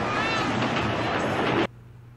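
The Catbus from the animated film My Neighbor Totoro: a loud, dense whooshing roar with a catlike yowl woven through it, cutting off abruptly near the end and leaving faint background hum.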